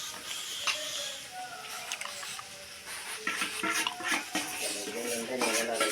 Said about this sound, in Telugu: ఫ్రై చేస్తున్నా